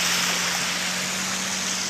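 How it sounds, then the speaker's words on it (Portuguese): Water rushes with force over the spillway of the Manoel Marcionilo reservoir as it overflows, a steady, dense broadband roar that holds constant throughout with no voices. "Olha a velocidade da água, olha. Olha, o sangrador."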